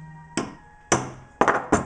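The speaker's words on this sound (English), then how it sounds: "we're going to punch our drill holes" A hammer strikes a center punch four times to mark drill guide holes in a DIY synthesizer panel, each blow a sharp close metallic tap with a short ringing tail, spaced unevenly.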